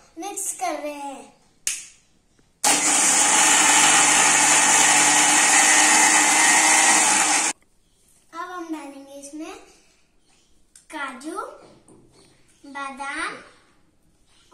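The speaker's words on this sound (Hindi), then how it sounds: "इसे हम ग्राइंड करेंगे।" A kitchen mixer grinder blends lassi ingredients in one loud, steady whirring burst of about five seconds, preceded and followed by someone talking.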